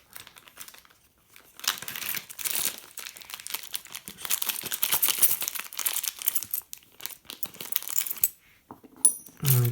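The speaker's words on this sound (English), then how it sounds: "So I'm going to have to take 2 random coins out of one bag." Coins are pulled from a bag, with crinkling plastic rustles and scattered metallic clinks, close and intermittent, ending in a brighter jingle, no talk.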